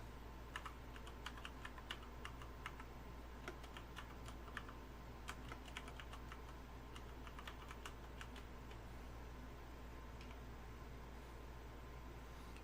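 Steady, fast pecking on computer keyboard keys while playing a PC game, the clicks close and continuous over a low background hum, with no talking.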